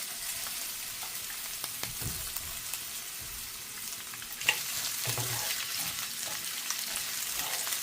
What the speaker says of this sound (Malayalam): ഇനി തേങ്ങായും നമ്മളിതിനകത്തിട്ടൊന്ന് ഇളക്കിയെടുക്കുന്നുണ്ട്